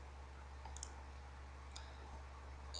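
A computer mouse clicks in Solid Edge design software: a few faint, sharp clicks spread over a steady low hum, quiet and isolated.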